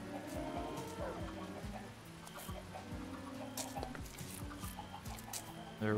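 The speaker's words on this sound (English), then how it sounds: "Well, the chickens are getting a little too excited." Minecraft chickens cluck repeatedly in a busy game scene, short clucks overlapping in a steady rhythm over dense background game sounds, fairly loud and continuous.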